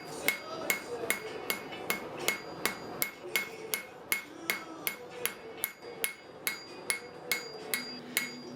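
A hammer strikes steel tines on an anvil, drawing them out for a forged herb hanger: a steady, evenly spaced series of sharp ringing blows, close and clear with no talk.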